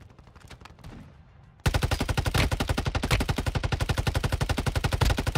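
Rapid automatic rifle fire in the video game Arena Breakout, a loud sustained burst of evenly spaced shots that starts abruptly after a quieter opening with faint background noise.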